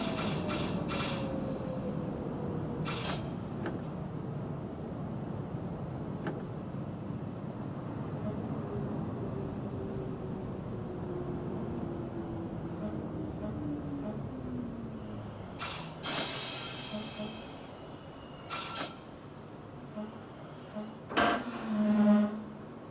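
A Manhattan-bound New York City subway 6 local train hums and rumbles steadily, with a long falling whine as it slows, then sharp air-brake hisses and clanks near the end. There is no talking.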